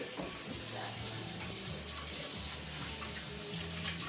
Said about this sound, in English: So now we're just gonna wash my hand there.